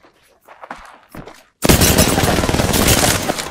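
Rapid gunfire from an Apex Legends 1v1 match bursts in loudly after a short stretch of quiet, continuous shots with a dense, sustained rattle; brief murmured talk comes before the shooting.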